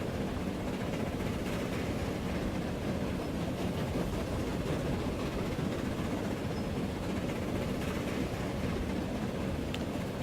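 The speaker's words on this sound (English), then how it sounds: "And there's another passenger train heading south." In the video game Transport Fever, a passenger train runs south with a continuous low rumbling drone, even and unbroken from start to finish, heard alone without voices.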